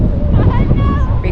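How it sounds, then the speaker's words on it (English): Strong wind blowing across a lake during paddle boarding, a loud rough rumble buffeting the microphone continuously, with a voice faintly present beneath the gusts. "Can you hear the wind?"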